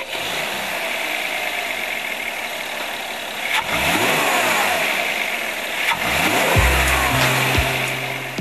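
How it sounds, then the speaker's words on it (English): A Mercedes C-Class with a 225 kW engine accelerates with a loud, steady roar, sweeping up in pitch through repeated gear changes before settling under a low, sustained drone. "Our tester says the C-Class's 225 kilowatt engine is anything but old school"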